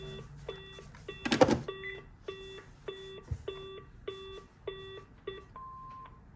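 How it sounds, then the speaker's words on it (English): Answering machine from a thrift store sounding a series of regular short electronic beeps, ending in a longer single tone, fairly faint with a brief clatter early on. "Please leave your name and phone number after the beep."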